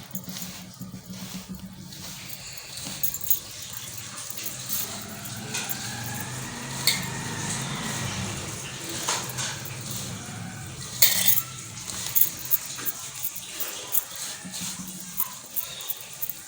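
Spoons and utensils clink and scrape against a bowl while warm creamy milk is worked into a sweet tikiya dough with mawa, ghee and dry fruit, a steady run of soft squishy mixing and light metallic taps throughout.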